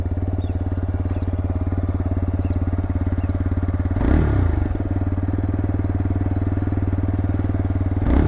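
A 2025 TVS Raider 125 motorcycle idling with a steady close low thrum, then two quick throttle blips that rise briefly and settle back to idle, with no talking.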